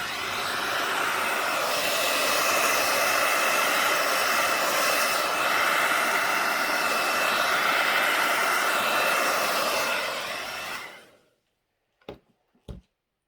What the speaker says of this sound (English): So I'll just flood the top, get the hairdryer and spread it out